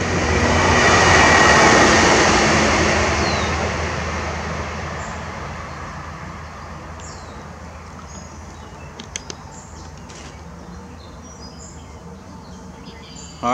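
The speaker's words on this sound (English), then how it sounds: "Here comes another train, yep," A train passes beside a river towpath trail in summer, a broad loud rumble that swells early and then holds as a steady roar, with faint bird calls over it.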